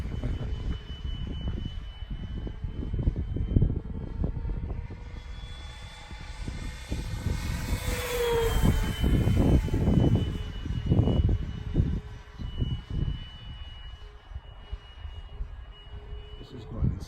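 A radio-controlled model airplane flies overhead with a continuous buzzing motor whine that swells and fades as it passes and rolls. Wind noise and faint voices sit underneath.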